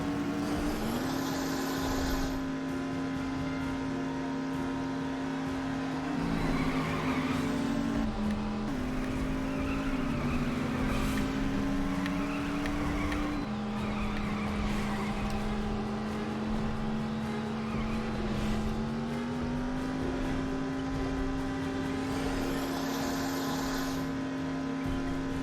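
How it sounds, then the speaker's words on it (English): A car in the video game The Saboteur drives with a steady, loud engine drone that shifts pitch as it revs, with brief tire squeal and skidding during handbrake turns, and no talking. "Handbrake turning is actually pretty responsive in this."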